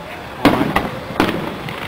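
Fireworks at a Fourth of July display go off in three sharp booming bursts about half a second apart. Each blast rolls into a crackling tail over steady crowd background, with people talking.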